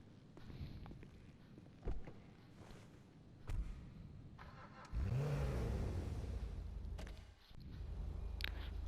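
A Lampadati Komoda in GTA Online starts quiet, then its engine revs up and drones steadily through the second half, fairly loud and close, with no voices.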